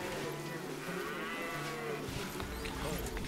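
Cattle lowing in the strategy game Stronghold 3, a few drawn-out moos over a steady backdrop of game ambience and music, heard plainly with no talking.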